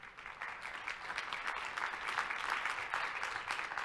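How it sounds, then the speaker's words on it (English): Audience applause greeting a panel as it walks onto a stage at a conversation event on dietary diversity and nutritious foods, steady and moderately loud throughout with dense overlapping claps. "If you walk, they applaud."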